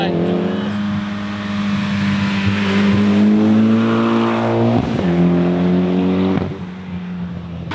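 A car with a Toyota 2JZ engine revs hard and loud nearby, its pitch climbing in long pulls and then dropping sharply before it rises again. The tone is harsh and buzzing, and people talk quietly underneath.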